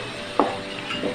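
A spoon stirs achari daal chana in a cooking pot, giving one short scraping stir against a steady low sizzle, followed by a softer second stir.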